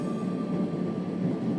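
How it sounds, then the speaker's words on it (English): A train car rolls steadily in Final Fantasy 7 Rebirth, heard from inside a storage car as a continuous low rumble with a faint rhythmic clatter, loud and close, with no voices. "So we're in a train car, like a storage car."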